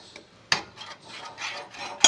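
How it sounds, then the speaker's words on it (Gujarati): Puran filling being stirred in a kadhai pan, a few faint scraping and clinking strokes with two sharper metallic knocks, close and quiet, with no voices. "આ રીતે આપણે હલાવતા રહીશું"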